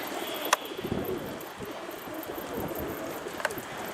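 Pigeons in a coop give soft, low cooing calls, faint and somewhat distant, with a couple of sharp clicks and no one talking.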